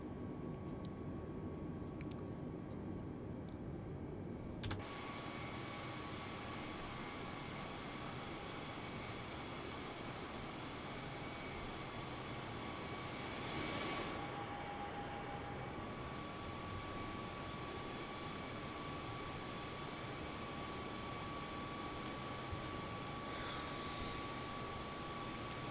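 Steady engine drone of an Airbus A320neo airliner in flight in Microsoft Flight Simulator 2020, continuous and even throughout, with a faint tonal shift partway.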